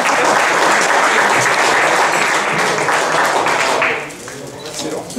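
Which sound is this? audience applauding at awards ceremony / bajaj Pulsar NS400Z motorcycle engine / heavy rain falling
audience applauding at awards ceremony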